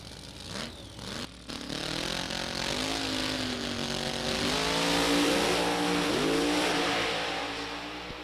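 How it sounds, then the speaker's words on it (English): A drag racing car launches hard down the strip at a Lucas Oil Raceway NHRA Division 3 event, its engine roaring loud and rising in pitch over several seconds, a sustained close, sweeping howl. "that car launched like a rocket, but straight towards the center stripe"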